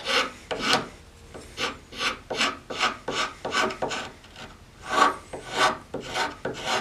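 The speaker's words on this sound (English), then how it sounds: "Now I can just take a file or rasp" A file or rasp works wood by hand in a steady rhythm of about fifteen coarse, scratchy rasping strokes, each a short rising-and-falling rub, close and moderately loud.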